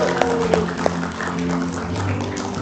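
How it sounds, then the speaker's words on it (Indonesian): Applause from a studio audience of students on an Indonesian televised election talk show, a broad steady patter of many hands with a few sharper claps in the first second, sustained throughout with no voice on top. "suara tepuk tangannya juga cukup banyak seperti dari mahasiswanya ya"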